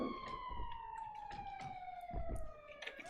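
Police car siren in GTA 5, a steady wailing electronic tone sweeping continuously and loudly throughout, with engine and street noise underneath.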